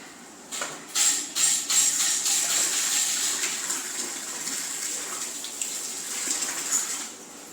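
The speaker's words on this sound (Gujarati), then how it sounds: "તો આપણે આ દાળની સરસ રીતે ધોઈ લેવાની છે" Soaked mung dal being washed by hand in a vessel of water, a steady close sloshing and swishing with a few louder splashy surges, no voices.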